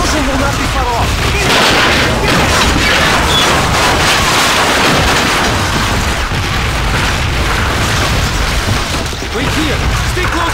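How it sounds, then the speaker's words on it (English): Dense, continuous rumble of booming artillery blasts and crashing impacts in the video game Call of Duty: Finest Hour, loud and chaotic throughout, with voices faintly mixed into the din. "Listen up to the artillery, the explosion will not be far off."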